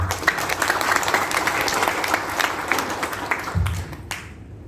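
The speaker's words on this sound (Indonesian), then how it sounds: "Tepuk tangan untuk PT BES." A crowd at an agricultural and plantation product training event applauds in a dense, steady wash of clapping that fills the whole stretch at moderate loudness before tapering off near the end.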